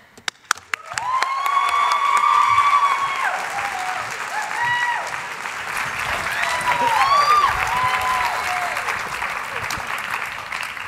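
A conference audience bursts into sustained applause, loud and close, as student keynote speakers are welcomed on stage. Whoops and a few cheers ring over the clapping, and it stays steady for several seconds after the sharp claps at its start.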